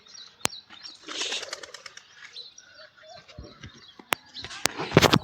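Pigeons in a loft flap their wings in sudden close bursts, with sharp wing claps and clatters among soft coos and chirps, loud and uneven in rhythm.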